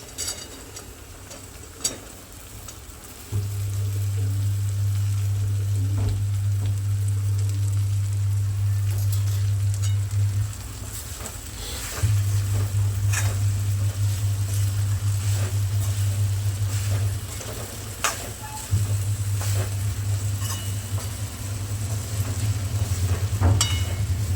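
Okra frying in a pan with turmeric, a steady loud hiss that sets in after a few seconds, pauses briefly twice and resumes, with scattered clicks and stirring knocks over it.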